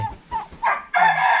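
A rare kai nguang rooster, kept in a Hmong village in Xaysomboun, Laos, gives a few short clucks and then breaks into a loud, close crow near the end.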